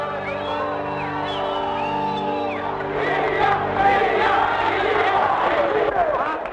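A dense crowd of mourners surrounding coffins of bomb victims in Brescia's Piazza della Loggia, 1974, raising a loud sustained wave of whistles and jeers against the government and President Leone, many overlapping whistles rising above a roaring murmur.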